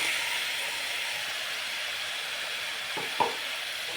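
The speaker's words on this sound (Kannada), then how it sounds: "ಇದು ಅಷ್ಟೇ, ಹಸಿ ಸ್ಮೆಲ್ ಹೋಗೋವರೆಗೂ ಫ್ರೈ ಮಾಡ್ಕೊಳ್ಳೋಣ" Chopped vegetables and ground masala paste sizzle steadily in a hot pan, a continuous close frying hiss with a couple of brief stirring scrapes near the end.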